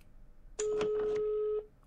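A telephone in the Evil Nun horror video game gives one steady electronic ring tone lasting about a second, loud and close, with no talk over it.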